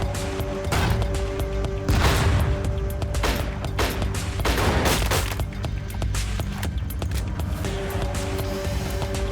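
Shotgun gunfire in the tactical video game Tastee: Lethal Tactics, a few loud, booming shots with crashing impacts over a steady game soundscape, no talking.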